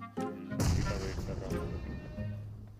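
Gunfire in PUBG on the snowy Vikendi map: two sharp, booming shots ring out close together near the start and trail into a rumbling echo at fairly low overall volume.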